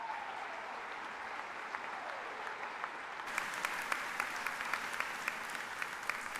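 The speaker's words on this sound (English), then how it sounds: "Let's give her a round of applause" Audience applause fills a hall at the UW-Stout Spring 2023 commencement ceremony. It is a steady, dense wash of clapping that swells noticeably louder partway through and continues without any voices.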